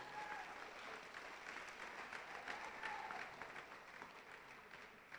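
Audience applause at a high school spring athletics awards ceremony, steady sustained clapping from a crowd indoors, fairly faint and even throughout with no voices over it.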